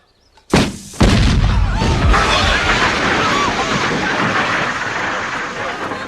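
A cannon firing a ball at a wooden target gives a sudden loud boom after a brief quiet lead-in, then a second crash and a long rumbling, crackling roar that slowly fades.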